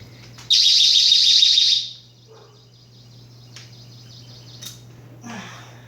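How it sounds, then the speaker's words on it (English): A loud home alarm beeps rapidly for about a second and a half after a door opens, then stops, followed by a few fainter chirping tones and a low steady hum. "Our alarm is freaking out."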